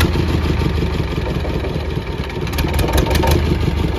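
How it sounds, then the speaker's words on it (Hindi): A motorboat engine runs steadily just after starting, a loud, close, rough mid-pitched drone with a slight pulsing rhythm and no voices over it. "तो अब ये बोट हो गई है स्टार्ट।"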